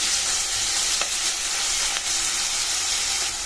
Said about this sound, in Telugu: ఇప్పుడు ఉల్లిపాయ ముక్కలు కాస్త దగ్గర పడే వరకు కలుపుకొని పెట్టుకోవాలి